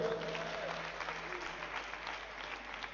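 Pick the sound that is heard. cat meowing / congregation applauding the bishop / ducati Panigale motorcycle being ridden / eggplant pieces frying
congregation applauding the bishop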